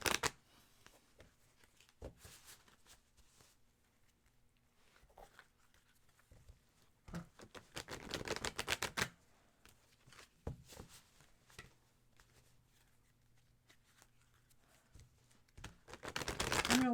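Intermittent bursts of tarot cards being shuffled, close and crisp, separated by quiet pauses, with a longer riffling stretch in the middle and another at the end.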